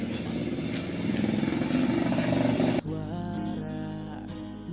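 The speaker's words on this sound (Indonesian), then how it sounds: "Suara motor itu" A motorcycle engine runs close by with a steady rumbling drone that shifts in pitch partway through, continuing loud and unbroken with no talk.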